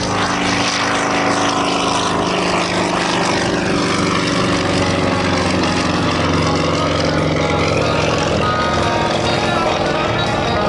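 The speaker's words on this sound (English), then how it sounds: "On the takeoff roll right now, Rick Volker in the Sukhoi" A Sukhoi aerobatic aircraft at an air show rolls down the runway for takeoff, its propeller engine droning loud and steady throughout, with a commentator's voice faint beneath it.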